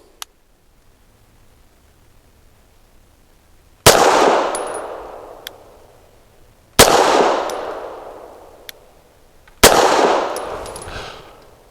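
A Grand Power Mk23 pistol firing S&B subsonic 140-grain rounds gives three loud, close shots spaced a few seconds apart, each a sharp crack with a decaying tail and faint metallic pings after.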